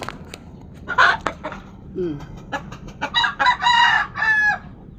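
A rooster crows loudly and close by after a few short clucks, its drawn-out call filling the last couple of seconds.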